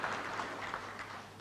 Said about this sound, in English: Another warm round of applause indeed for Governor Ruto.